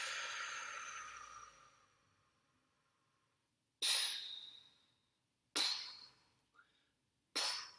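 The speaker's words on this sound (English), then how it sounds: "We are going to breathe in and out" A person breathes out in a long, audible exhale that fades over a couple of seconds, followed by three shorter, sharper breaths out spaced a second or two apart, close and alone.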